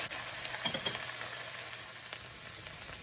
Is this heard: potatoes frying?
yes